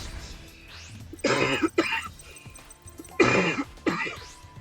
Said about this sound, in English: And that's why I'm coughing.